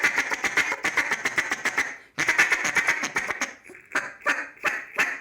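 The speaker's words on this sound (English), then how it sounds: "Get them good natural quacks out of it." An RNT DC Mondo duck call blown in a rapid series of natural quacks and light chatter, loud and close, pausing briefly and then returning as slower spaced quacks.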